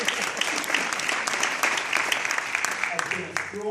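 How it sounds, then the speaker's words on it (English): A crowd claps steadily throughout, a dense wash of applause with a voice starting to speak near the end. "you can clap"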